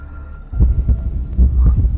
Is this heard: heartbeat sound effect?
yes